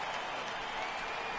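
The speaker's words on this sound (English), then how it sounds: "Getting a good hand from the crowd here at Brooklyn." Crowd applause for a batter in the baseball video game MLB The Show 18 at a Brooklyn ballpark, a steady wash of clapping and crowd noise holding level throughout the short stretch.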